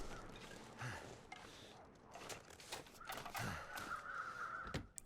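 Several crows caw in The Long Dark on the far side of an island, their harsh calls repeating at uneven intervals over a steady outdoor wind hiss, moderately loud and fairly close.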